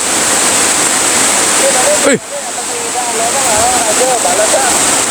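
Heavy rain pours down at a dam, a dense, constant roar of falling water, loud and close, with faint voices murmuring beneath it.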